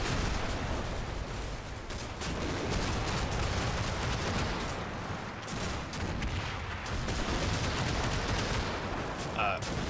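Battle gunfire in the video game Combat Mission with Strong Hussar firing, dense rattling volleys and machine-gun bursts mixed with distant heavy blasts, continuous throughout at moderate volume.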